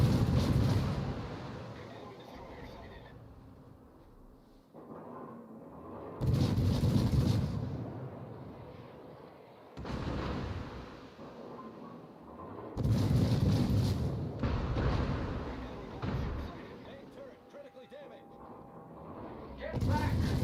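Naval guns aboard the Duke of York fire concentrated salvos at a target, heavy booms rumbling in repeated bursts a few seconds apart, with voices talking between them.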